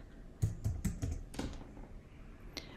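Fingers tap a computer keyboard in a brief quick burst of about six soft clicks, then a pause and a single faint keystroke, all close and quiet.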